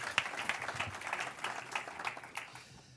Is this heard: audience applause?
yes